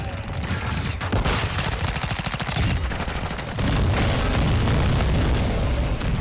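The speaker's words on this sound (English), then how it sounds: "He got an AC-130 on this fucking map?" AC-130 gunship fire in Call of Duty: Modern Warfare, a dense stream of heavy explosions and rapid gunfire that stays loud and continuous and grows heavier toward the end.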